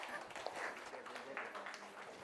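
Faint applause from an academic conference audience in a university hall, a short stretch of scattered claps with voices murmuring underneath.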